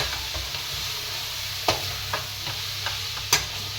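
Vegetables for spring rolls stir-fry in hot oil in a pan on a low flame, with a steady sizzle throughout and the tap and scrape of a spatula a few times, close and fairly loud, with no talking.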